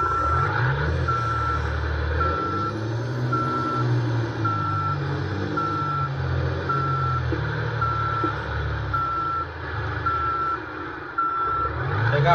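In Euro Truck Simulator 2, a truck parks in reverse with a loud, evenly spaced series of reversing beeps over a steady low engine rumble.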